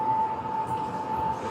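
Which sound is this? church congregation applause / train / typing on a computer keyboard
train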